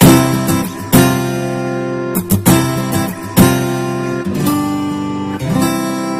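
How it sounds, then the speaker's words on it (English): A 12-string guitar voice on a Yamaha PSR S700 keyboard plays a series of bright, shimmering strummed chords, each ringing out before the next, with no talking. "Let's have a look to the 12-string guitar."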